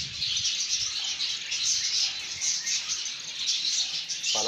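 Doves and finches in a breeding setup chirp and call in a steady, fairly faint bird chorus with bright tweeting throughout and no talking.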